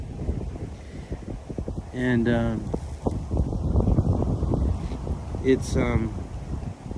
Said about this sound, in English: it's just really windy out here.